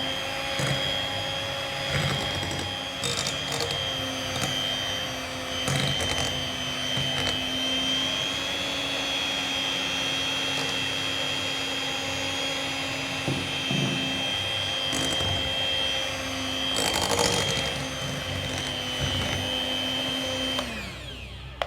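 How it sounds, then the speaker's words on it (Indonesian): An electric hand mixer whirs steadily at low speed through brownie batter, a close, continuous motor drone with a slight pitch dip near the end as it slows. "Lalu mixer kembali dengan kecepatan rendah sampai tercampur."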